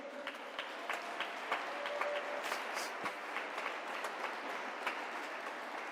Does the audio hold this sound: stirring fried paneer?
no